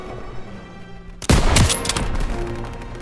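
A sudden loud burst of gunfire from Call of Duty WWII erupts after a quiet moment, with rapid shots crackling close by for the rest of the moment.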